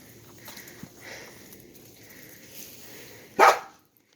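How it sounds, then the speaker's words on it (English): A neighbor's dog gives a single short bark near the end, after soft sniffing and faint patter outdoors by a goat planter box and wood piles, otherwise quiet background. "There's there's Daisy, a neighbor's dog."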